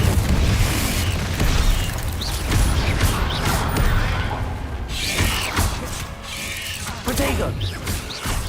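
Confringo blasting spell detonating in the Hogwarts Legacy video game, a burst of booming explosions among mechanical clatter and spell effects, loud and continuous across the fight with dense layered game audio.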